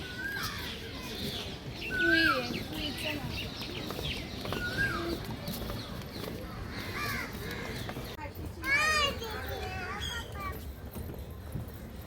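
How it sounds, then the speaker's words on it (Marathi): Asian koel calls ring out among busy outdoor birdsong on an elevated nature trail at Malabar Hill, with a couple of louder whistled notes rising above a steady background of chirps. "कोयलचा आवाज पण आहे"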